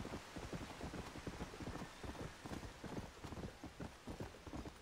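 Quiet, steady clip-clop of a horse's hooves trotting in an even rhythm in the video game Red Dead Redemption: Undead Nightmare, with a faint patter like rain in the background.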